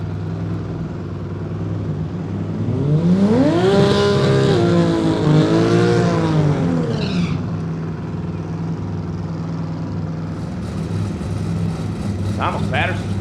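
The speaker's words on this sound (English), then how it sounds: "Thomas Patterson's car idling really high over the right side" A drag race car sits at high idle in the right lane at a small-tire drag racing event, a loud, rough steady drone. A pitch swell comes partway through as an announcer talks over the PA.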